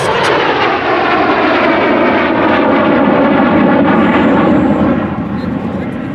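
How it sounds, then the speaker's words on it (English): A de Havilland Vampire jet fighter, the two-seat T-55 trainer, roars loudly and steadily on final approach at Duxford, its broad jet noise filling the air with a faint high whine, while a commentator talks over the public address. "First of the Vampires now on final approach."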